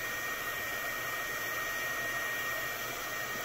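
A heat gun blows a steady, loud stream of hot air while shrinking heat shrink tubing over battery BMS wires in an off-grid solar build, a constant broadband roar with no talk.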